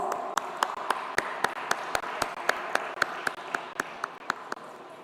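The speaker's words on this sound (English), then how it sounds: "I think this is the moment we can give a huge round of applause." Audience applause at the BioAsia 2025 life sciences event in Telangana: sharp, evenly spaced claps ring out steadily for about five seconds, fairly sparse and rhythmic rather than a dense roar, with no talking.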